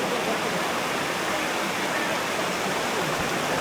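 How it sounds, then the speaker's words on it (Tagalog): Ourika Falls in the Atlas Mountains of Morocco on a hot summer day, a steady, loud rush of falling water filling the scene, close and continuous, with no clear talk over it. "At sa wakas nga ay narating na namin ang waterfalls."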